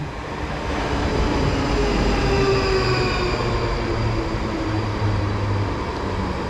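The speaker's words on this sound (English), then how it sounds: "arriving in now is going to be the 15:59 service to London Waterloo from Windsor Eton Riverside" A Class 458 electric train on the Windsor line rumbles steadily into a station, with a continuous loud rolling roar and faint motor whine throughout.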